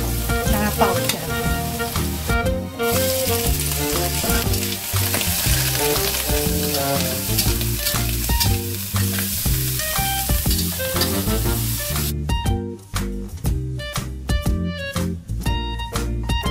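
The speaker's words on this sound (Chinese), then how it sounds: "然后再来是这个，让它爆香。" Ingredients stir-fried in a hot pan to release their aroma while preparing a jicama and shredded pork soup, giving a steady close sizzle with clinks and scraping from stirring that holds throughout, alone without speech.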